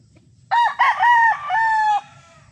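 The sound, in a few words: rooster crowing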